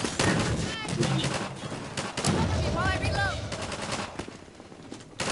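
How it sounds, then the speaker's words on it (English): Rapid gunfire in the game Half-Life 2 cracks in dense bursts aimed at the player, sharp repeated shots over a busy, noisy game mix with short tonal effects, continuous and loud across the moment. "Who the hell is shooting me?"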